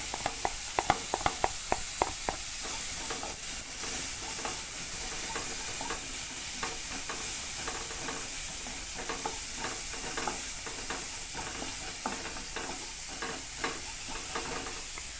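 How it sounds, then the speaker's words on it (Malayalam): Chopped capsicum stir-fried in a hot pan, a constant loud sizzle with scattered clicks and scrapes of a spatula stirring, close and continuous without any talk. "ഇനി നമുക്ക് ക്യാപ്സിക്കം ഇട്ട് കൊടുക്കാം."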